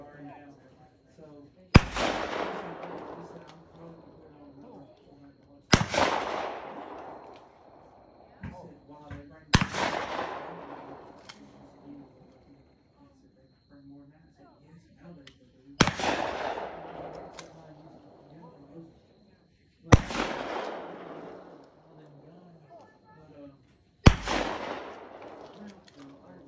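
Six sharp shotgun blasts at a trap shooting range, spaced several seconds apart, each loud crack followed by a fading echo.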